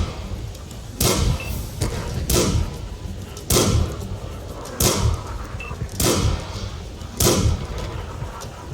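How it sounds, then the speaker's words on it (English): A tier 5 Churchill tank gun fires in World of Tanks on the El Halluf map, with six sharp, booming shots spaced about a second apart over a steady engine rumble. "This gun fires super fast, as you can tell."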